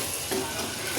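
A spoon stirs Kathiyawadi-style ridge gourd curry in a pan just after the flame is turned off, producing a soft continuous sizzle and scraping texture with a couple of brief stirring strokes, close and fairly quiet.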